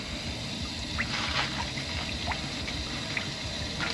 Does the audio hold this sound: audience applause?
no